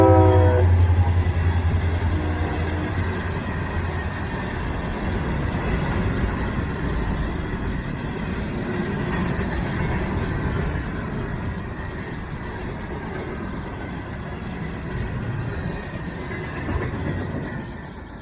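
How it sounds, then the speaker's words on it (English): A diesel freight train led by a GP40-2 locomotive hauling empty aggregate hoppers rumbles past close by, opening with a loud horn blast, then a long steady roar of wheels and cars rolling by. "led by GP 40-2 422, headed back to Fort Pierce with empty aggregate hoppers"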